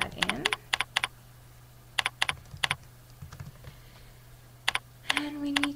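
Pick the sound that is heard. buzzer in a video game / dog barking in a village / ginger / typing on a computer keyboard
typing on a computer keyboard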